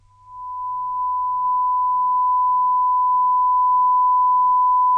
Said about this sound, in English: It's a 1K, 1000 hertz tone being a sine wave tone generated by Audacity